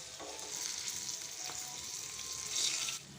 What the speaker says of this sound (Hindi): मिर्चों का गोल्डन कलर आने तक इनको फ्राई करेंगे